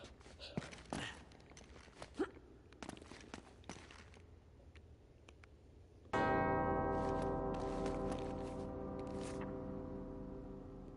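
Two bells ring together in Uncharted: Drake's Fortune, a loud sustained harmonic peal that starts abruptly midway and rings on steadily, preceded by scattered footsteps and small game sounds.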